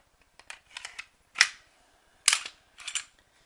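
Smith & Wesson M&P40 pistol parts are assembled by hand, giving a few sharp metallic clicks and snaps spaced irregularly, close and fairly quiet, with no speech.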